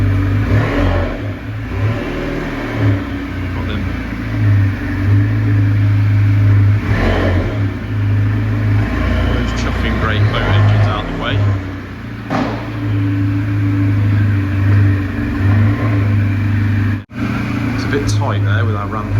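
A rebuilt Lister engine runs at a steady, loud, close drone with a constant low hum throughout, while people talk over it.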